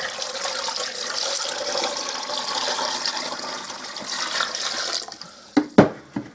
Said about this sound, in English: I'm going to finish filling this with water.